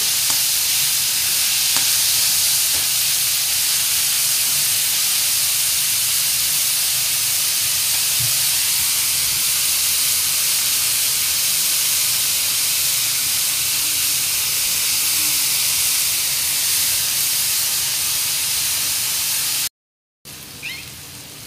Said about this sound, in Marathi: चांगला सोनेरी रंग येईपर्यंत कांदा आपण परतून घेऊया